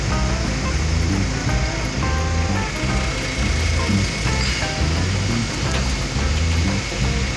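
The flooding Brantas river rushes past a bridge construction site near Jombang, a loud continuous roar of water with some mechanical hum and clanks mixed in.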